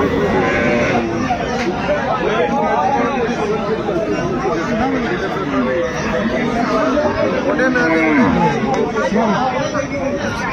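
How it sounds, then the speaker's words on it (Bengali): Busy cattle market, where a cow with her calf and other livestock call out now and then through constant crowd chatter and nearby talking voices. "গাভী বাছুর।"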